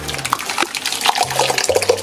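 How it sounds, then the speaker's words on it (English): Hot liquid from a pot pours and splashes into a crock pot, a close, steady watery gush with small plops and drips throughout. "we take that whole pot and we put that in the crock pot here"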